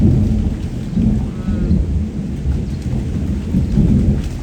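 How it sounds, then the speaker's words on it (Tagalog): Heavy rain pours down steadily in a dense, continuous roar, with low rumbling underneath and no voices. "sa sobrang lakas ng ulan"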